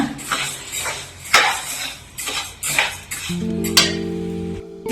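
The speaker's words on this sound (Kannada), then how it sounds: "ಈಗ ನಾನು ಉರಿತಾ ಇದ್ದೀನಿ ಈ ತರ ನೀವು ಕೂಡ ಹುರ್ಕೊಳ್ಳಿ" Roasting ingredients in a metal pan as a banana tambittu is prepared, with a utensil repeatedly scraping and clinking against the pan in irregular strokes, close up and with no voices.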